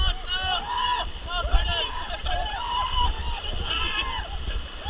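A team paddles a raft through river rapids, with constant sloshing and splashing water and paddle strokes under loud shouted commands from several people.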